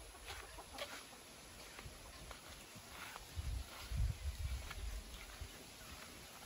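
A hen clucking softly with her chicks somewhere outdoors in Aklan, faint and somewhat distant, mixed with scattered rustling and low background noise, with no one talking.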